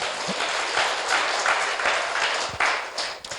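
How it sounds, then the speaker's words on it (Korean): Audience at a business presentation seminar clapping in self-congratulation, a continuous hiss of many hands with occasional louder individual claps standing out, holding steady throughout. "자축의 박수를 부탁드립니다."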